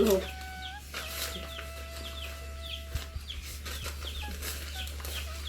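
Poultry farm hens cluck softly in short repeated bursts, with a steady low hum running underneath and a faint sustained tone at times.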